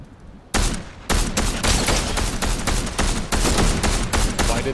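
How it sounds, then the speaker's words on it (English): Sustained bursts of gunfire in a Fortnite battle, loud and close, firing in rapid sustained volleys with a few brief gaps between bursts. "I'm getting shot at"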